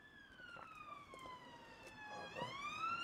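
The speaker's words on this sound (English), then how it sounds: "Oh, no, it's a police car." A police car siren wails in the distance near a hospital in Poulton, Blackpool, its rising and falling tone drifting over faint street noise, with no one speaking.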